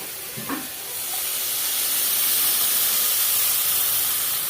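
Water hits a hot pan of spinach and bursts into a loud, steady steaming hiss that swells after a brief splash and holds broadband and close for several seconds, with no talk.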